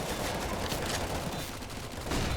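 Rapid, dense gunfire rattles through a competitive video game match, with loud overlapping shots and crackling bursts filling the whole moment and no voices heard.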